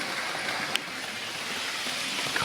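A Hornby Virgin Pendolino model train runs slowly along its track with a steady, airy whirring hiss. A single faint click stands out early in the run.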